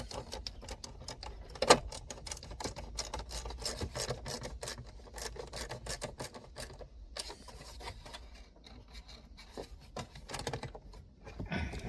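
Screws are driven into a plastic clip in a car dash pad with a quiet, rasping, ratcheting scrape, repeated in short bursts in a garage, with one sharp click early on.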